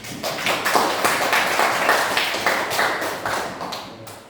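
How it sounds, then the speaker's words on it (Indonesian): Students in a classroom clap together in a quick, steady rhythm, moderately loud and with no talking over it. "Berikan tepuk tangan untuk."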